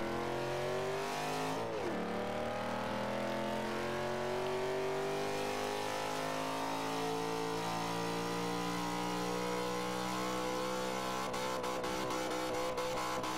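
Forza Motorsport 5 VW Beetle fitted with a 5.7L V8, running flat out at top speed: a sustained, loud engine drone with a steady high-rev hum and a brief dip near the start, nearly continuous with no talk.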